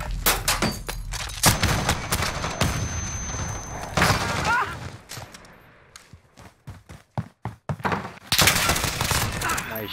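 Gunfire in the video game Call of Duty: Modern Warfare fills a competitive match, with dense rapid shots and booming bursts that come in clusters and then thin into separate sharp cracks. Players' voices sit faintly in the mix.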